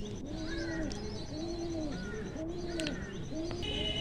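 Pigeons in a loft of Mundi sada breed birds cooing in a steady repeating series of rounded coos, with occasional chirps and faint clicks over a constant background hiss.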